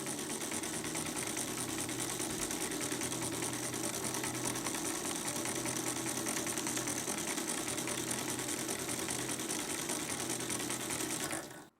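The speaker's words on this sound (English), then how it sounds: "I have now connected two 12-volt batteries in series to drive the motor" The universal motor of a jigsaw runs off two 12-volt batteries wired in series, making a loud, steady, close whirring buzz that holds level for about eleven seconds and then cuts off abruptly.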